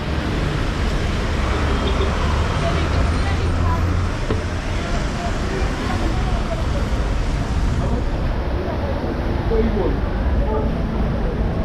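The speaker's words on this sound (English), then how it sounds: "And the traffic is crazy, guys." Busy city traffic on a rainy street in Pretoria's central business district at knock-off time, a dense, loud roadway rumble with passing vehicles and crowd babble mixed in throughout.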